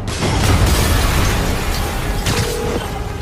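An explosion in Spider-Man (PS4, 2018) fills the clip with a loud, sustained, rumbling roar of noise and debris, with no talking.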